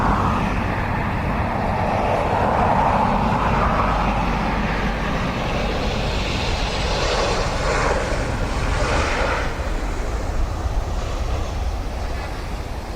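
A jet airliner rolls at Dublin Airport, its engines giving a loud, continuous roar and rumble that hold steady throughout, heard from a distance with no other sounds.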